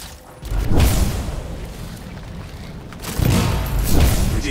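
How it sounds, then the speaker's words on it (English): A contained explosion of canisters in the Anthem video game gives deep booming blasts, one after another, with a rumbling low-end roar and a lingering rush of debris-like noise. "It'll be a contained explosion."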